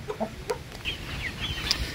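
Backyard chickens cluck and chatter close by in short, irregular bursts over a low, steady outdoor background, with no talking.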